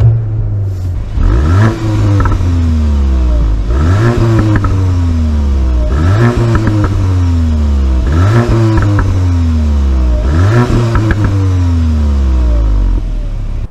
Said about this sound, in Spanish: vamos a poner aquí el modo Cupra para que escuchéis un poco el sonido